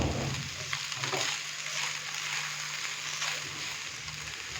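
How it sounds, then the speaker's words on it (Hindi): Chicken and vegetables frying in a pan for chicken hakka noodles give a loud, steady, close hiss of sizzling oil, continuous throughout with slight swells as the food is moved. "चिकन डालने के बाद अभी हम चिकन को भी हल्का सा फ्राई करेंगे, जैसे 1 से 2 मिनट के लिए"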